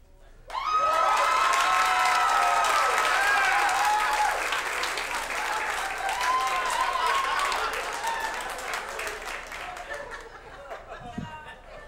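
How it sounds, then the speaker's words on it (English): Comedy club audience bursts into loud clapping and cheering that holds for several seconds, then gradually thins out, with scattered chatter and laughter mixed in. "I want you to clap if you think I look like somebody famous"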